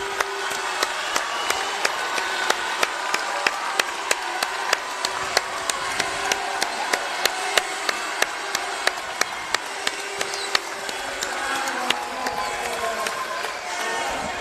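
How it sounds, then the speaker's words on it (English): Steady applause from a large crowd at a basketball game fills the space, with sharp claps and cheers over a dense roar of an arena. "it's only fair that we both stand up and applaud Zaire Taylor"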